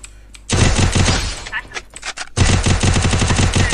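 Rapid gunfire in a 6 vs 6 online shooter match, two dense bursts of repeated loud shots separated by a short lull with a voice talking over it.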